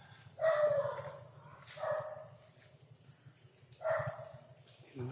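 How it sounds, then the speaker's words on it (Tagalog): Dogs barking in a few separate bursts at medium distance outdoors, with a steady insect or cricket drone underneath and short gaps of quiet between barks. "May mga aso ah."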